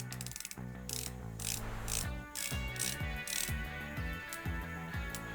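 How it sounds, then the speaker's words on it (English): A ceramic bezel on a Heimdallr Sharkmaster, a Seiko MarineMaster homage dive watch, ratchets as it turns, giving a run of crisp, close clicks over steady background music. "Very good bezel action on this watch."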